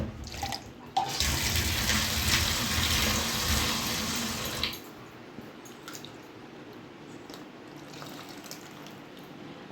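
Water is poured into homemade beetroot juice, a loud splashing pour for about four seconds that then cuts off, leaving a quieter settling sound and faint drips.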